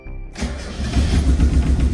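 A Mazda Miata engine cranks and catches, then runs with a loud, uneven, lumpy rough idle close by, with no talk over it.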